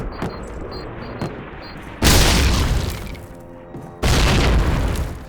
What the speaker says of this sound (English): those are scripted grenades